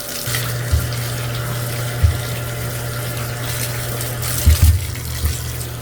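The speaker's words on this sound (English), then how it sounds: "Now we just give them a rinse with some warm water a few times, rinse them really, really good" Warm tap water runs steadily into a tub as welding boots are rinsed, a continuous close splashing rush over a low hum, with a few soft bumps and no talking.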